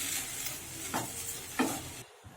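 Sambhar vadi stuffing with lemon juice stirred in a pan, two distinct spoon scrapes against the pan over a soft steady background hiss, ending in near silence.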